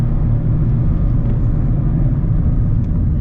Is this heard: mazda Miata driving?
yes